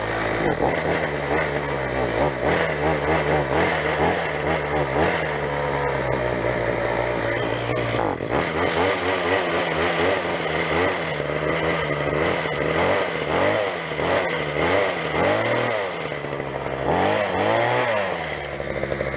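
A gas string trimmer pulled from the garbage runs close and loud for the whole stretch, holding a buzzy two-stroke idle and then revving up and down repeatedly, with no talking over it.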